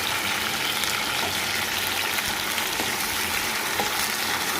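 Potatoes frying in a pan of capsicum chicken curry give a steady, close, dense sizzle and bubbling hiss that holds evenly throughout, with no voices.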